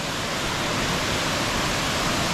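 Waterfall at Oliyaruk in Erappu, a steady dense roar of falling water that fills the scene evenly and close by, with no voices over it.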